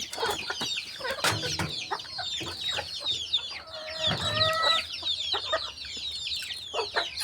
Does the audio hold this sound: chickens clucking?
yes